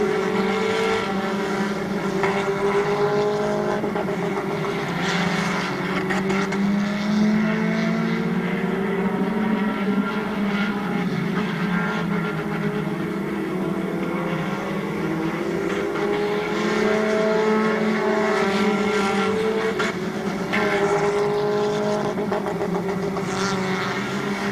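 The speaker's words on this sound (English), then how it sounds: "Lenny Orr moving out of the way of the leaders as they go by." Race cars roar around a speedway oval late in the race, a continuous loud engine drone with rising and falling pitch as the leaders pass, several cars overlapping throughout with no talk.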